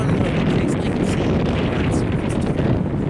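Steady, loud wind buffets the microphone with a constant low rumble, no other sound standing out.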